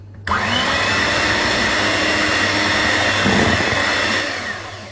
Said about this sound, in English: I'm just going to use a regular electric mixer